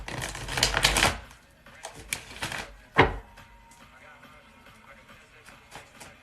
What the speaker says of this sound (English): I was seeing if I could shuffle while looking at the camera.